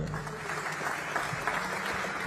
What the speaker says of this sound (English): How about a round of applause for Mr. Jamie Ward?